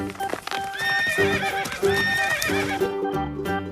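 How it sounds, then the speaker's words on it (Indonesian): A mare whinnies loudly in repeated bright, wavering neighs while her hooves clip-clop in an uneven rhythm nearby, with the calls fading out near the end. "ini ada indukan kuda"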